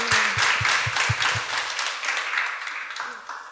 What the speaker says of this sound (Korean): 박수 보내드렸으면 좋겠습니다